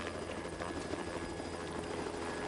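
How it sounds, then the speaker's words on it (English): Helicopter rotor in the video game Metal Gear Solid 2, a steady, dense chopping roar that holds at constant loudness throughout with no talk over it. "look, it's a helicopter."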